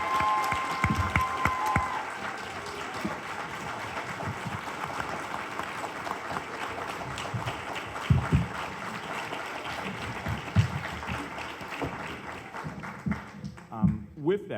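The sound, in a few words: audience applause for mayoral candidates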